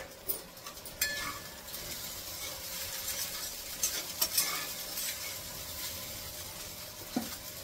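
Soaked sabudana for khichdi, with potato, peanuts and green chili, being sautéed in a pan: a spatula scrapes and stirs repeatedly over a soft background sizzle, with a few sharper knocks, no talking.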